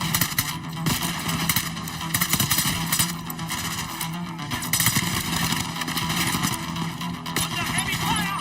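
Gunfire from a weapon with odd recoil in Call of Duty Black Ops 6, busy bursts of shots and effects running through the whole stretch, loud and dense, mixed with game sounds and a player's voice talking over it.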